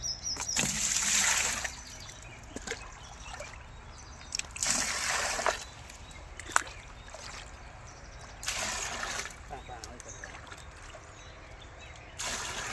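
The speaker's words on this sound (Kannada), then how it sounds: "ಏಳು ಡಬ್ಬ ನೀರು ಹಾಕಿ" Bursts of water splashing and sloshing come in several waves as cans of water are poured into a tank for mango-orchard spraying, with quieter trickling between them, fairly close and fairly loud.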